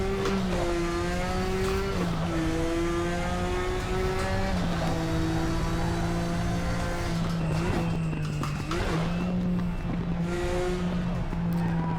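Nissan Skyline race car in the Raceroom sim racing game at Sonoma, its engine droning steadily with pitch dipping and climbing through gear changes and throttle lifts, tire squeal mixed in, loud and continuous throughout.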